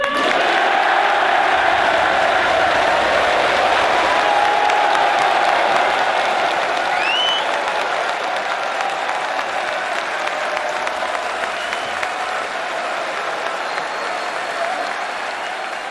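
Sellout crowd applauding at the Crucible during the World Snooker Championship 2021 final, sustained loud clapping and cheering from a packed hall, with a whistle cutting through midway and the ovation holding steady throughout.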